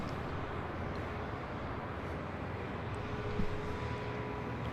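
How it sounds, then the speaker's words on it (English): Delta Boeing 757-200 airliner at LAX, a steady distant jet engine rumble holding evenly throughout with a faint tonal whine on top. "It's also a Delta 757-200, number 3 for departure here on the north side."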